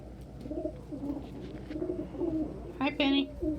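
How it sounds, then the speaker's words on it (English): Many pet doves and pigeons perched on a person coo softly at close range in low, rolling repeated phrases, with a brief sharper chirp near the end. "There are so many birds on me."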